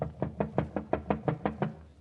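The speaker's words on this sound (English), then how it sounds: "Somebody is knocking." Knocking on a battered apartment door in a radio drama: nine steady, evenly spaced knuckle raps, close and fairly loud, with no talk over them.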